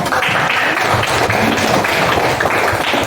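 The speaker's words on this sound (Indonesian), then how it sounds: "Tepuk tangan dulu." A classroom of students claps hands together in dense, continuous, fairly loud applause that stays even throughout.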